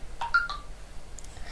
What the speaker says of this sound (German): Man kannst du nicht mal dein scheiß Handy auf lautlos stellen?